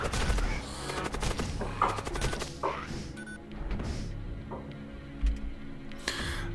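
Gunfire crackles steadily in the Void War video game, a rapid stream of loud shots with a few heavier impacts and a short quieter gap partway through, with no talk over it.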